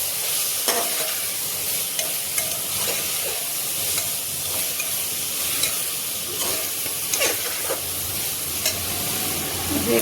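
Spice paste with Kashmiri chilli powder fries in a pan over medium-low flame, giving a constant loud sizzle and hiss punctuated by repeated scraping strokes of a spoon stirring it.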